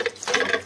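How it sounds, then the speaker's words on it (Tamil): Water is poured into rava dosa batter in a brief, close splashing trickle that lasts under a second, with no talking. "தண்ணி ஊற்றி நல்லா கரைச்சிக்கலாம்."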